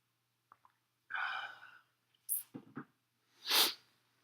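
A person takes a quick drink of water, with a few close gulps and swallows followed by a breathy exhale; short breaths come before it, and no one speaks.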